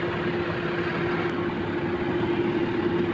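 A Kia Bongo 3 J3 with a hard-start fault idles close by, a steady droning engine hum with a constant tone, no clear rev change across the short stretch, and no talk.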